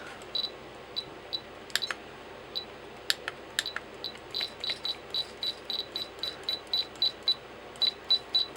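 Small plastic-geared hobby servos adjust the steering of a model rat rod, giving a series of brief high whirring buzzes in quick bursts, irregular at first and then in a rapid regular rhythm, faint and close.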